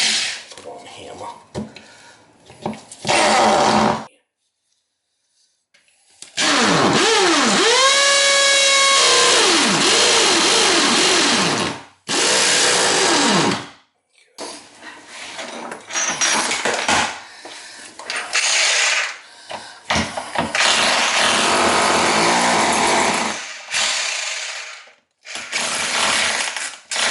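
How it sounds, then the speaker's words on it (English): A hammer drill boring holes through a PVC toilet repair flange set into cast iron pipe. Loud bursts of drilling whine up and down in pitch, separated by pauses and some handling noise. "I got a hammer drill here with a"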